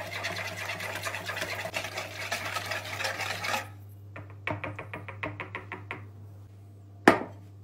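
Eggs whisked with salt and sugar in a bowl until smooth, a rapid rhythmic clicking and tapping for several seconds, then sparser separate taps and a sharp knock near the end, close and moderately quiet with no speech.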